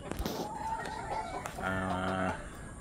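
Roundhead gamecock rooster clucking nearby with short calls, then a drawn-out crow, with a faint voice in the background.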